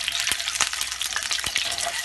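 Boiled eggs frying in oil in a pan on low heat, a continuous bright sizzle broken by a few soft knocks as they are turned, close up.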